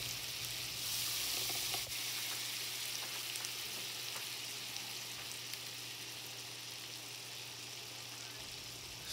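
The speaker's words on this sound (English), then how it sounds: "Stick of butter in." A stick of butter melting in a hot pan, a soft, steady sizzle with faint crackles throughout, one sharp clack near the start, heard alone without talking.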